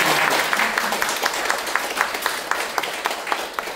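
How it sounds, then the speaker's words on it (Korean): Audience at a lecture on filial piety (hyo) breaks into applause, a thick wash of clapping with some sharper individual claps standing out at a loose rhythm, fairly close and continuous. "동의하시면 박수"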